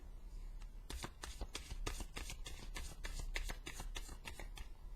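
Tarot cards riffled and shuffled by hand at close range, a rapid run of crisp flicking bursts that fills the whole stretch steadily with no talking.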